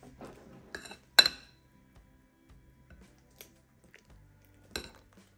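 Almond-milk batter for chocolate lava cakes is stirred in a bowl, giving quiet scraping and squishing sounds broken by a few sharp clinks of a utensil against the bowl, with no talking.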